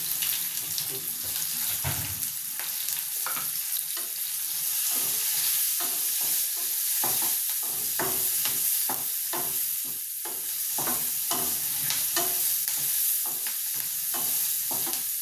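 Oil sizzles and spatters steadily as a tempering fries for tomato rasam, with frequent clinks and scrapes of stirring, a busy kitchen sound with no one talking.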